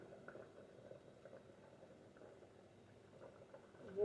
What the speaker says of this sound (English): See, they're boiling right here in this orange pot.